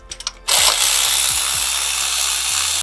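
Impact wrench or power driver spinning off 13mm bolts from the water pump of a RAM truck with a 6.4 Hemi, a few brief taps followed by a sustained loud whirring buzz for over two seconds, close up.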